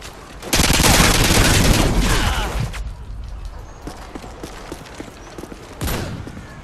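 In a shooting video game, a dense burst of gunfire crackles for a couple of seconds, then fades to scattered shots and clatter, with one more sharp burst near the end.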